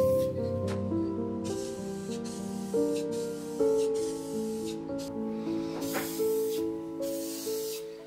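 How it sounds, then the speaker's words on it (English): A spray can lays a couple of coats of lacquer onto the exterior of a sanded wooden box, short hissing bursts rising over steady tonal background music. "I sprayed the exterior of the box with a couple of coats of lacquer."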